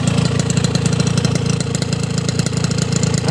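A warm two-stroke motorcycle engine idles with a steady, loud, close putter and a fast, even pulse throughout, with no talking.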